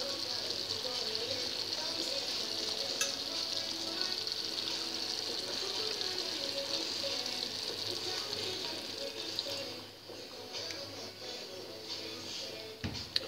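A pan of sausage, eggplant and vegetables for spaghetti sizzles steadily as water goes in, a continuous hiss and bubbling with faint clinks, easing slightly near the end.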